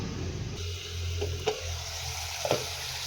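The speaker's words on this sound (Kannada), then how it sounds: "ಲಿಡ್ಡನ್ನು ಕ್ಲೋಸ್ ಮಾಡಿ ನಾವು ಒಂದು ಹತ್ತು ನಿಮಿಷಗಳ ಕಾಲ ಫ್ರೈ ಮಾಡ್ಕೊಬೇಕಾಗತ್ತೆ" Goat leg pieces fry in masala inside a covered pot, giving a steady low sizzle with a couple of light metallic clinks near the end; no one speaks.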